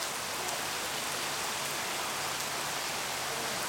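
Steady rain falling outdoors, a constant broadband hiss of drops on surfaces with no breaks and no voices.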